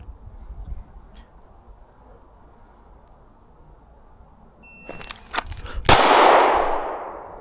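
Gunshots ring out during shooting drills at an outdoor range, a few sharp cracks in quick succession followed by a louder shot with a long metallic ring, after several seconds of quiet outdoor ambience.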